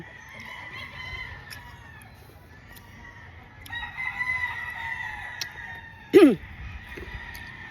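Chickens cluck and roosters crow in the background on a chicken farm in Zamboanga del Norte, Philippines, with one loud, close crow standing out near the end.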